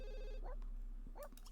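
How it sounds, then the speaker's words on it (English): A telephone rings in The Sims video game, a repeated electronic ringtone trilling at moderate volume, with short game voice sounds and chimes following. "we could answer the phone since it's still ringing"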